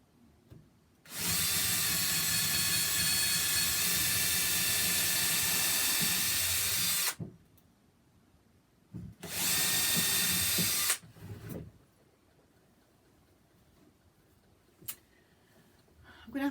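A power drill whirs steadily through wood for several seconds, stops, then runs again in a shorter burst, close and loud in a quiet room.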